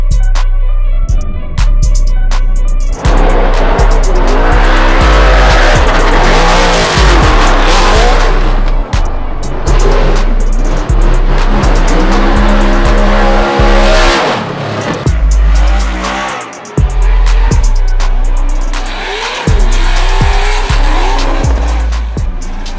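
A 2023 Ford Mustang RTR drifting on a track, its engine roaring and revving hard while the tires squeal and skid almost continuously, loud and close, with brief lulls between bursts of throttle.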